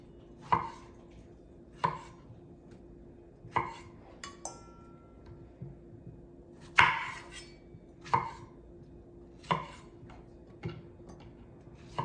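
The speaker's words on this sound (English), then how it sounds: "Now on to chopping up the strawberries" Sharp knife chops strike a cutting board one at a time while chopping strawberries, spaced about a second or more apart, in a quiet room.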